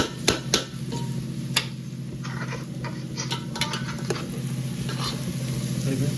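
Onions and greens frying and being stirred in a pan for a Karnataka dish, a steady close sizzle broken by sharp scraping and clinking of a spatula against the pan.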